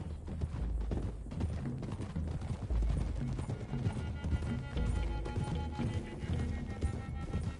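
Horse hooves gallop in Red Dead Redemption 2, a steady rhythmic clip-clop of riders moving together, close and fairly loud throughout with an occasional snort or whinny.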